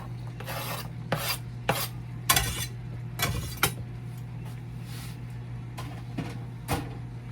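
Chopped ingredients tipped into a pan and stirred, giving a series of scraping, rasping strokes of utensil on metal spaced about half a second apart over a low steady hum.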